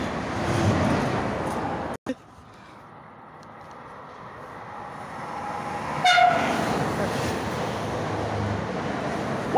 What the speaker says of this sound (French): Les gars, il y a un TGV Lyra.